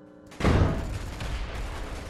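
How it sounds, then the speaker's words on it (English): A sudden booming blast in Space Engineers erupts and rolls into a sustained rumbling roar that fades slowly. "Oh, I just saw that explosion."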